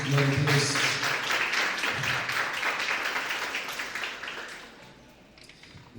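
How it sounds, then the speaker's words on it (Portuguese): A church congregation applauds in a dense wash of clapping that gradually fades, with voices mixed in at the start. "Aplauda o Senhor Jesus"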